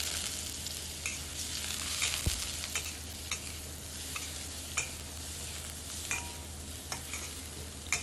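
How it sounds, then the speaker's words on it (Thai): Chopped garlic sizzles in hot oil in a pan while being stir-fried, a soft steady hiss broken by intermittent scrapes and clicks of a utensil against the pan. "เอากระเทียมสับใส่ลงไปค่ะแล้วก็ผัดให้สมกลิ่นหอมเลย"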